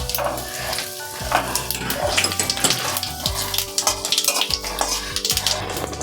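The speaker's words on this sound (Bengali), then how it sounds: "এবার আমি তেজপাতা, শুকনো লঙ্কা ফোড়ন দিয়ে দিলাম।" Bay leaves and dried chillies sizzle as they are tempered in hot oil in a pan, a steady crackling fry close up, with spoon clinks and scrapes against the metal pan.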